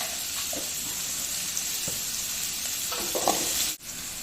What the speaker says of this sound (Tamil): நல்லா ஒரு கல் உப்பு போட்டு வதக்கணும்னா நல்லா வதக்கணும்.